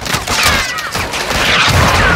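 Gunfire in the video game Call of Duty Modern Warfare 2, a loud dense burst of battlefield shots and explosions rolling continuously through the short clip.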